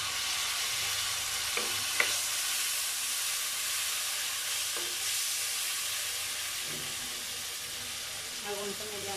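A little water poured over garlic paste and salt in a hot pan for hilsa-head and mung dal muri ghonto sets off a loud, continuous hiss and sizzle, with a few faint stirring scrapes up close.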